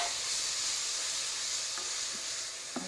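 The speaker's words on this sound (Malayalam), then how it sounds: "അപ്പോൾ അതിലേക്ക് നമ്മൾ ഈ ഉള്ളിയുടെ മുളകിൻ്റെ മിശ്രിതം ഇതിലേക്ക് ഇടുകയാണ്" Onion and chili mixture sizzling in hot coconut oil, a steady close frying hiss with a few faint stirring clicks, no voices.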